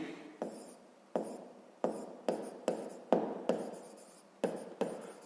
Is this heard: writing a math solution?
yes